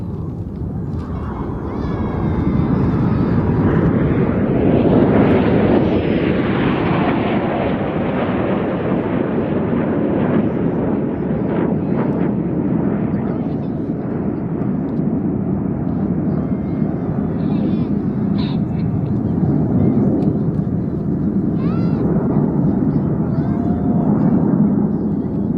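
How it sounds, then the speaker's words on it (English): Jet aircraft in a formation aerobatic display trailing coloured smoke roar past overhead, pull up to the vertical and roll, a loud broad rushing engine noise that swells and fades, with a voice talking over it. "Aircraft pulling to the vertical, the white smoke on, Red 1 about to roll to the left"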